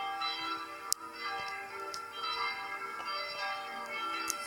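A chapel bell at Saint-Étienne de Sully, the one tuned to G that rings at noon, sounds in a quiet interior, a steady sustained ringing tone with faint strikes and hum lingering throughout.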